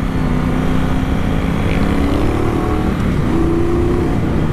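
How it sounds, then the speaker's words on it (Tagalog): A 2019 Triumph Bonneville Bobber 1200 engine revs hard and loud up close, a continuous throbbing roar that lifts slightly in pitch partway through, with no talking. "Rev bomb."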